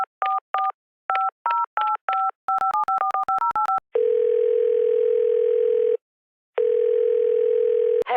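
A telephone number is dialed on a keypad: a quick run of about a dozen touch-tone beeps in uneven groups, followed by two long, loud ringing tones separated by a brief gap.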